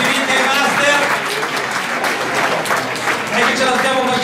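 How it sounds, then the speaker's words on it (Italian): An audience at an athletics award ceremony applauds steadily, with continuous clapping that fills the hall while voices talk over it. "solo applausi, resistete, complimenti ai master."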